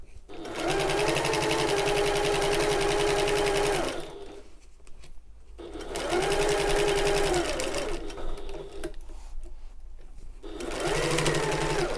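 A sewing machine stitches a shoulder bag side seam in three loud, steady whirring bursts separated by short pauses, with a voice speaking during the gaps.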